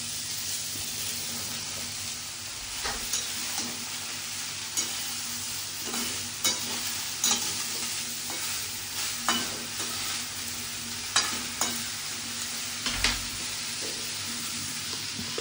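Bottle gourd sizzles in a pan of tempering with dried chilli, a steady hiss broken by irregular scraping knocks of a spoon stirring, close and moderately loud.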